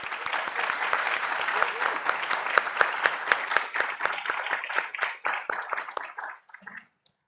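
An audience applauding three panel speakers at a talk on refugee and migrant rights, a burst of dense clapping that swells, holds, then thins out to scattered claps and stops.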